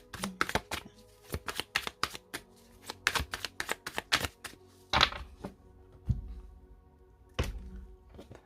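Tarot cards shuffled and cut on a table: rapid bursts of riffling and soft slaps, then a few separate thumps as the deck is split and set down, close and quiet with no talk.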